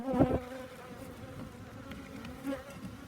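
Honeybees buzz at an open hive where they corral small hive beetles; a close, busy drone of overlapping wing hums with a few louder passes near the start and again briefly later.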